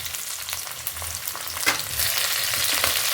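Ginger and garlic sizzling in hot oil in a pan for a Kerala fish curry, a close hissing fry that swells louder partway through, with a scrape of a spoon and no talk.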